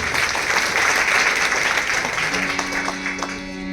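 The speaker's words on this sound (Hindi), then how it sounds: "देवियों की ताली बजाओ एक बार।" Audience applause during a Shrimad Bhagavat week gathering at a Kali Mata temple in Jammu, a dense wash of clapping that fades slightly toward the end as low sustained tones rise beneath it.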